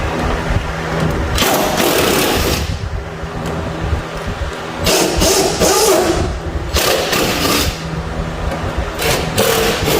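An impact wrench or power tool removing four 13mm spindle bolts from a Toro Timemaster mower deck, loud continuous buzzing and rattling in repeated bursts, close up and dense.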